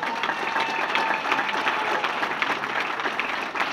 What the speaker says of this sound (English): Once again, a big round of applause, Mr. D.T. Mays.